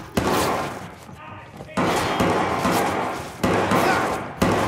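Gunfire from enemies in the Watch Dogs 2 video game, with loud, repeated sharp bursts and thuds spread across the clip and a voice talking over them.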